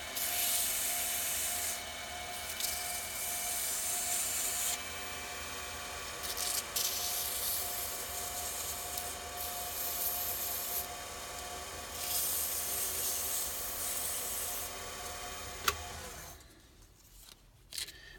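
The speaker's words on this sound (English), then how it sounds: "we'll start the lathe up, and I'm going to go ahead and start with a 280" Sandpaper at 280 grit rubbing against wood spinning on a lathe makes a continuous, fairly loud abrasive hiss over the motor's hum, which fades out in the final seconds as the lathe winds down.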